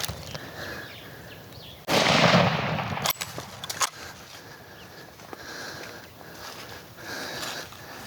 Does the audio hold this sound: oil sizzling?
no